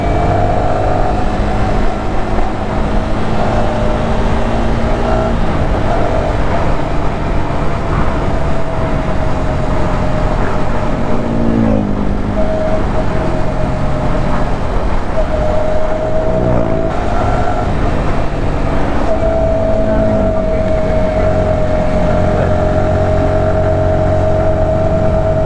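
A steady, continuous roar of many motorcycles on the Marilaque mountain road, with engine drones rising and shifting as bikes pass close by, with no talking over it.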